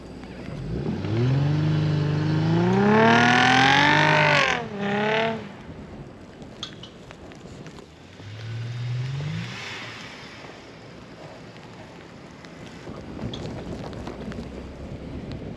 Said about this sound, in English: It just spins all the tires if you do a kick down